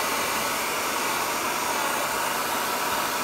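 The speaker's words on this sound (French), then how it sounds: "je vais la sécher au sèche-cheveux" Hair dryer running continuously up close, drying textured stone paper, a steady airy whoosh with a faint motor whine, no voices.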